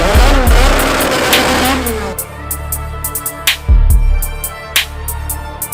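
A Honda Civic EK revs hard at first, then drops to an idle with sharp bursts of tire squeal and short engine blips that return in uneven spurts.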